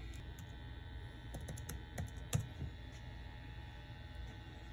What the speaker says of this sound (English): so we have to type in our password now